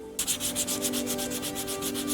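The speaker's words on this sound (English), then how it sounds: "I'm now sanding the handles and it's working out quite well." Rhythmic rasping of sandpaper rubbed back and forth on the wooden handle of a damasteel oyster knife, even strokes repeating steadily and close by, over a faint electrical hum.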